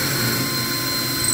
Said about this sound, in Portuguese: fazer o furo aqui no nosso rebaixamento de gesso